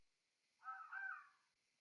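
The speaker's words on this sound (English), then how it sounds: "Is that a crow or something?" A crow caws once, faint and distant, in the video game Resident Evil Zero HD; the single drawn-out call stands alone over quiet background.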